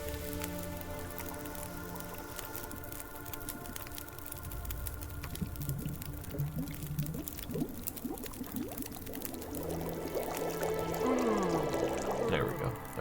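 Water splashes and pours in The Long Dark survival game as a pot is filled, a wet, gurgling stream that builds toward the end over a low ambient hum.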